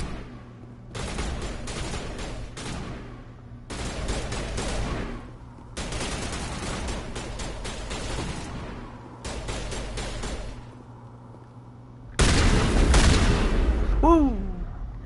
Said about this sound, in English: I'm gonna go to my shotgun for close range.